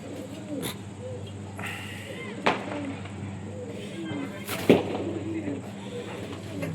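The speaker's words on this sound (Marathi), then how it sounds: "हे आहेत आपले पंजाबी कबूतर." Punjabi pigeons coo in low, soft, repeated calls over steady background noise, with two sharp clicks or knocks standing out partway through.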